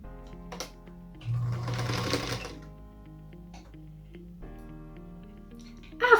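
A home sewing machine stitches pieced quilt block units onto a pink center square, a steady mechanical whir with rapid needle ticking that surges for about a second, then settles into quieter running with light clicks.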